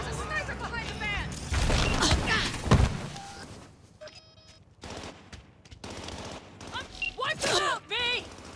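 Sniper and automatic gunfire in the video game Cyberpunk, with loud bursts of shots and thuds amid game sound effects, voices shouting over the action.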